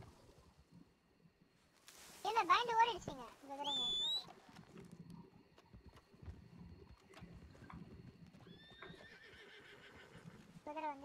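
A horse neighs and whinnies in the video game Red Dead Online, with several loud, high whinnies over clip-clop hooves and ambient game sound, while voices talk intermittently.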